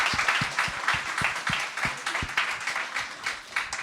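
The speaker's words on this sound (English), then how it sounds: "give a massive round of applause to the panel" A crowd applauds a panel at an online-business talk event, with dense continuous clapping from many hands, steady and moderately loud, punctuated by a few heavier low thumps.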